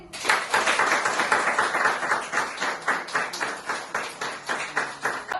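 An audience at a lucky-draw announcement for an online contest winner claps together, producing loud, close, steady applause in a fast regular rhythm for several seconds with no voices over it.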